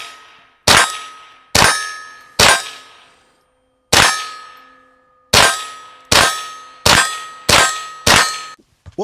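Rimfire rounds from a 10/22 rifle striking steel targets, giving eight sharp metallic rings with ringing decay, some spaced out and some in quick double taps, close and loud with no talking.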